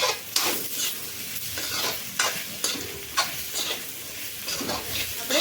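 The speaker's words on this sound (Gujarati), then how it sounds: "સૂકી ભાજીને આ રીતના મિક્સ કરી લેવાની છે" Dry potato sabzi being stirred in a pan, with repeated scraping strokes of a spoon against the metal at an irregular rhythm over a soft background sizzle, close and moderately quiet.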